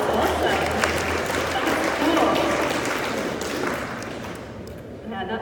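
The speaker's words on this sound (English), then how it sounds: "round of applause for that" A crowd at the Bitcoin 2019 conference claps in a busy burst that gradually thins and fades, with a few voices mixed in near the end.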